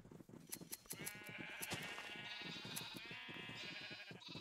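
Many Minecraft sheep bleat together in a crowded pen, overlapping calls forming a steady, dense chorus throughout with no talking.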